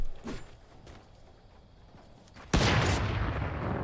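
Gunfire in a video game: a few distant shots, then a sudden loud burst of close rapid fire that keeps going to the end.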